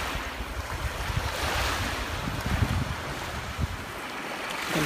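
Steady ocean waves wash and surge from a Teletubbies Tubbytronic Superdome toy, a continuous roaring hiss of surf with gentle swells and no voices.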